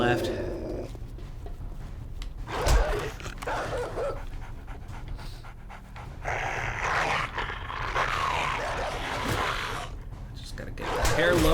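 Dogs in a video game pant, growl and snarl continuously through the scene, with the aggressive canine noises mixed under game sounds and a player talking over them.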